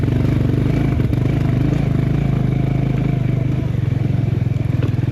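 A motorcycle climbing a rocky mountain trail to Ama Yangri in monsoon season, its engine thumping steadily up close as stones clatter and scrape under the tyres.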